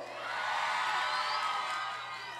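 Audience at a Costa Azul contest show in Granada cheering and applauding, a broad sustained roar that swells and fades over a couple of seconds with no clear voice on top.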